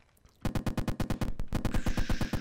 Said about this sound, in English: let's go for machine gun